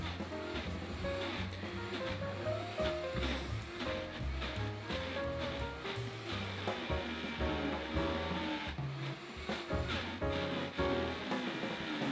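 A Vitamix Ascent X2 blender runs its frozen dessert program, ramping speed up and down. It gives a continuous loud whirring roar with churning, rumbling texture throughout.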